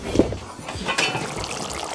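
Shredded beef stew bubbling in a pot, a soft, busy liquid simmer with irregular small pops and gurgles, close up and fairly quiet, no talking.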